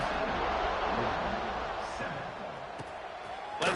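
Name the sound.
crowd buzzing in a stadium, from the video game Madden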